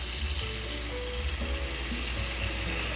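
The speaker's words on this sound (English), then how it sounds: "I'm gonna add some water." Water runs steadily into a pot for cooking Brazilian black beans with jerked meat, a continuous hissing splash at even volume that lasts the whole stretch with no talking.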